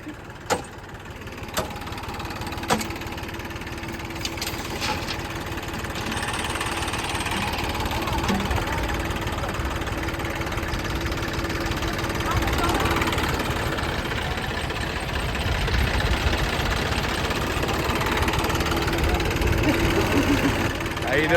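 A Massey Ferguson tractor idles on a road, a low rumbling engine at moderate distance with a steady knock, a few sharp clicks and knocks near the start, and people talking over it.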